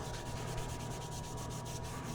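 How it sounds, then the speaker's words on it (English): Steady, continuous abrasive rubbing of a sanding block against metal, a dry rasping scrape that holds at an even level with no pauses and no voices. "This is my sanding block for like servicing some tubing to a ridiculous degree."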